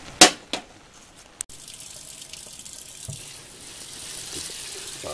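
Tap water runs steadily into a sink while dandelion greens are rinsed after boiling, a close, soft rushing stream after a few sharp clunks at the start.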